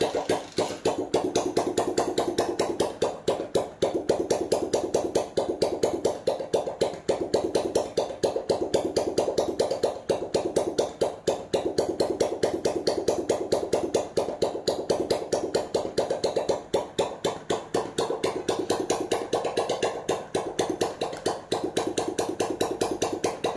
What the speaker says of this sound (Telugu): మీకు బండి అయితే స్టార్ట్ చేస్తాను